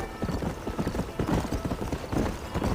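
A horse gallops in Red Dead Redemption 2, with rapid, steady hoofbeats close up and loud, and a faint voice in the background.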